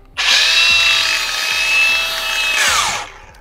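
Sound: power tool grinding with a DISTAR disc

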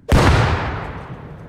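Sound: grenade explosion in video game

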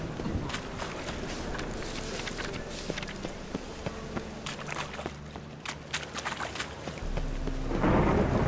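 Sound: rain and thunder in The Witcher 3 video game

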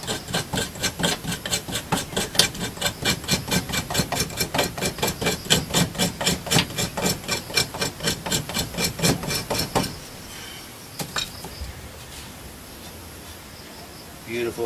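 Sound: knife blade scraping sticky Florida fatwood

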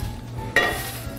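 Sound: frying pan placed on the stove

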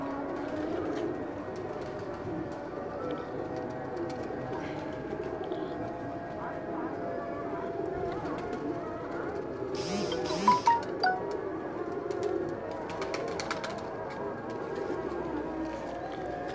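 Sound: pigeons cooing on a rooftop

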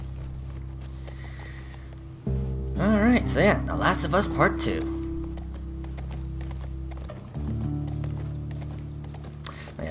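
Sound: horse hooves clip-clopping in The Last of Us Part II video game

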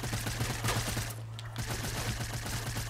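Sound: gunfire from a suppressed or burst SMG in a video game

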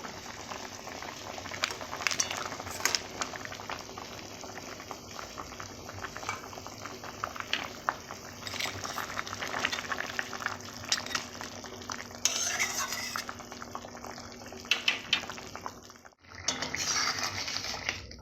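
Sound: crab curry cooking and being stirred in a pot

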